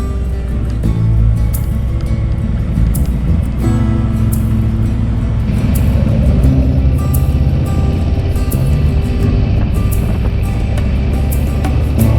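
A Harley motorcycle or a V-Strom riding along an interstate highway, with a steady, loud engine drone and road rumble. Wind roar persists throughout, and the tone shifts slightly partway through.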